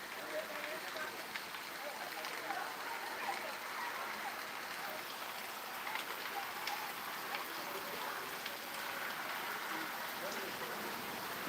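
Heavy rain during a downpour in Punjab, a faint, steady hiss of falling water and dripping that stays even throughout, with no clear talk over it.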